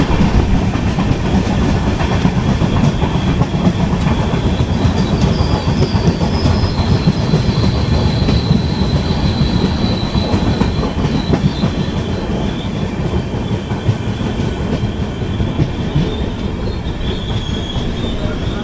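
The Jamnagar–Tirunelveli Express, hauled by a Western Railway locomotive numbered 37303 from Vadodara, passes very close and loud: a sustained heavy roar of wheels and rails with high metallic squeals and rhythmic clatter throughout, with no voices.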